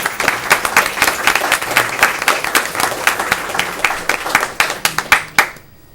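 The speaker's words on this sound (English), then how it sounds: "If we could give them another round of applause." A room full of people clap loudly and steadily at a school board meeting, sharp individual claps in a dense burst that stops abruptly near the end.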